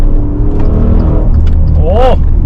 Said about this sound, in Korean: 이 그릉그릉거리는 저 엔진음은 또 좋네요